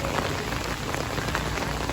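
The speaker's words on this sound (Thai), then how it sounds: "สองสัปดาห์แล้วนะคะที่ฝนตกติดติดกันในเวลานี้แบบนี้นะคะ" Steady, dense rain patters on a hard surface, a constant hiss of drops close by with no voices.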